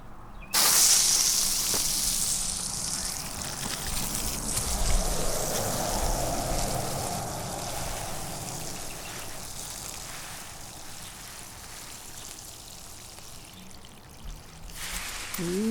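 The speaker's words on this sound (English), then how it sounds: "I'll open this up and let the water come out as fast as it can." Water gushing at full pressure out of an expandable garden hose, a sudden loud hissing pour that starts abruptly and gradually eases over several seconds, steady and close, with no talking.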